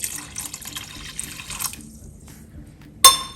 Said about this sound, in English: we will add in around 1 cup of water.